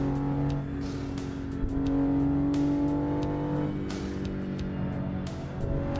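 Cars speed past on a road in a steady stream, a continuous engine drone with repeated whooshing passes rising and falling over about six seconds, fairly close.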